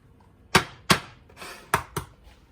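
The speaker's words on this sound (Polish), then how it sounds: "Wbijam jajka." Eggs cracked into a Thermomix bowl while making cheesecake: a handful of sharp, close knocks and taps in quick succession, separated by brief quiet gaps.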